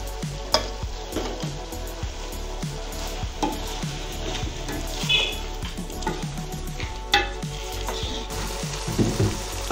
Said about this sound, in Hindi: अच्छी तरह से भून लिया ऑयल डालकर।